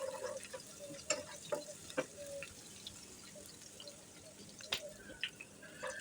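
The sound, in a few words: chopped onions frying in sunflower oil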